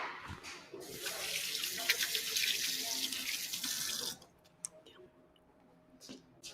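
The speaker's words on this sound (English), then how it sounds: "I'm going to wash my hands again." A kitchen tap runs at a sink for about three seconds while hands are washed during cooking, a bright steady splash that stops abruptly, followed by quiet clinks.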